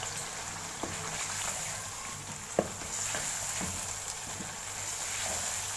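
Potato pieces frying in spiced masala in a pan for egg and potato curry, a quiet continuous sizzle with a few soft clicks of stirring, no talking.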